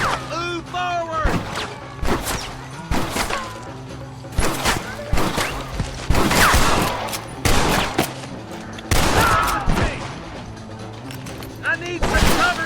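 Repeated bursts of gunfire from a Red Dead Redemption shootout crack loudly across the whole stretch, volleys of shots overlapping with other game sounds and voices shouting in between.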